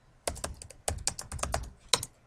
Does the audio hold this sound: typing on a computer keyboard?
yes